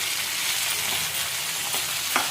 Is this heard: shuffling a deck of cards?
no